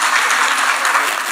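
Party delegates at a DP-Kenya gathering applauding, a brief dense burst of clapping from a crowd, steady and loud throughout.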